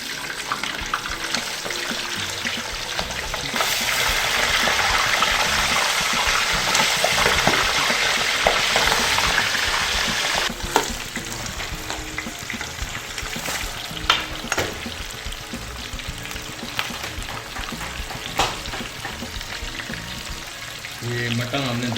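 Mutton frying in hot oil for Kabuli pulao, a loud continuous sizzle and crackle lasting throughout, with scraping stirs and clanks from a utensil against the pot, close and steady.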